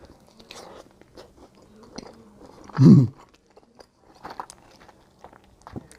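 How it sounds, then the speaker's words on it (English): A bite into a bacon-loaded bratwurst in a bun slathered with barbecue sauce gives one close, soft crunch, followed by quiet intermittent chewing. "let's take a bite."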